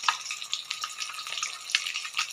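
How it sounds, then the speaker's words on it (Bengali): Katla fish pieces frying in a kadai, a steady soft sizzle with small crackling spits and pops running throughout, close by and fairly quiet, with no talking. "এটা কিছুক্ষণ ভাজা হোক, এক পিঠ ভাজা হয়ে গেলে আবার উল্টে দেব।"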